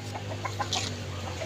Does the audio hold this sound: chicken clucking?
yes